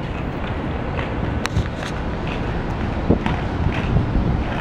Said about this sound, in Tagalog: Ay, ang sarap naman dito ang hangin.